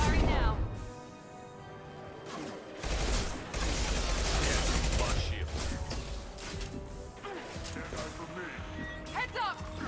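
Gunfire in the Mass Effect 2 video game: bursts of weapon fire and crashing impacts in a dense, busy mix, with voices talking over the combat.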